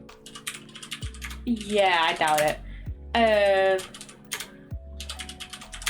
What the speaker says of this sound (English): I'm just typing in so many words.